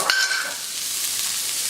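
Vegetables with fennel, seasoned with salt and pepper, browning in a frying pan give a steady, close sizzle, opened by a brief stir or clatter at the start.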